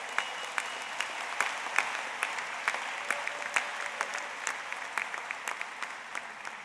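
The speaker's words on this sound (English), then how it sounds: "Let's give them all a round of applause" A large crowd applauds at a doctoral commencement ceremony, many hands clapping in a dense, steady roar with a few sharper nearby claps standing out, continuing without pause.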